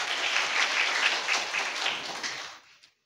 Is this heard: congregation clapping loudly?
yes